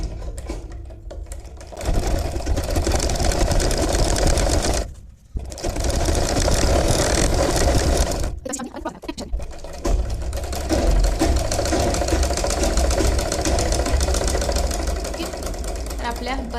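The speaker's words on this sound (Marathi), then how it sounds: "आता आपण 1/2 इंचावरती किंवा 1/4 इंचावरती अशी स्टिच मारून घेऊयात." Sewing machine stitching an umbrella frock, a loud rapid mechanical chatter running in long bursts, with two short pauses between stitching runs.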